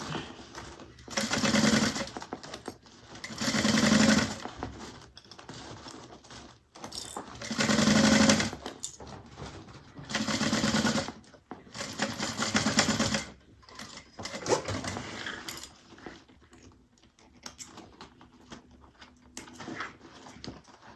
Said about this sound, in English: kind of overlap your stitches right there where you left off there. And back stitch.